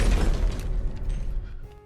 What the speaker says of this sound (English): He violently smashes the whiskey bottle in the robber's face